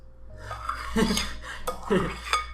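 A spoon stirs arancini rice mixture in a bowl, giving soft scraping and a few light clinks against the bowl, quiet and close, with faint background hum.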